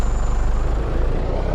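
V8 supercar engine roaring loud and close, a dense steady drone with no break across the moment.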